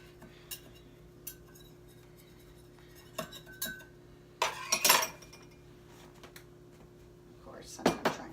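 Knife scraping and clinking against the metal edges of a hot breakfast sandwich maker, a few soft taps then a louder cluster of metallic scrapes and clinks, with a low steady hum and a voice speaking nearby.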